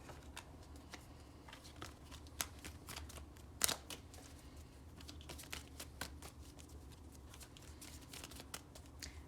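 Tarot cards shuffled by hand make soft, quick riffles and crisp clicks in a quiet room, faint and repeated in irregular bursts, with one sharper snap partway through and no talking.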